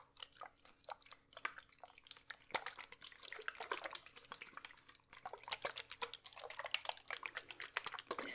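Water handled gently in an ASMR nurse role-play, soft irregular drips, splashes and wet patting sounds coming close and quiet in uneven bursts, with no voices.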